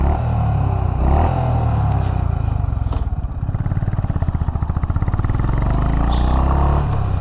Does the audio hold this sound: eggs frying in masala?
no